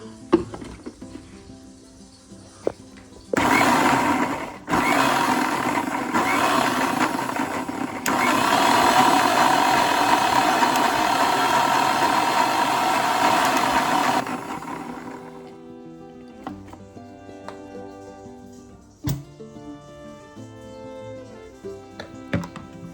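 An electric blender grinds coriander chutney into a paste, running loud and steady in bursts for about ten seconds with brief pauses, then stopping, leaving quieter clatter and background noise.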